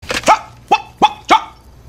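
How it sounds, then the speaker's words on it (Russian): A dog gives four sharp, loud barks close by within two seconds, with the last three evenly spaced and no voices. "Да, мадам, это мой пес."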